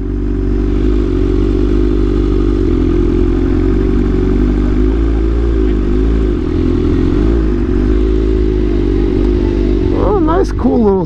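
Motorcycle engines idling and rumbling at a bike night gathering, a steady low drone from several bikes nearby, with voices talking over it and a brief clatter near the end.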